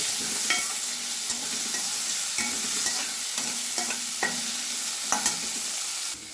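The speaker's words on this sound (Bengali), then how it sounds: "পেঁয়াজ, রসুন, কাঁচা লঙ্কা দুটো আর একটা টমেটোর আধখানা আমি ছোটো ছোটো করে কেটে নিয়েছি। এগুলো আমি ভেজে নেব।" Chopped onion, garlic, green chillies and half a tomato fry in a pan. A steady sizzle sits under regular, rhythmic spatula scrapes and taps against the pan, close by and with no one talking.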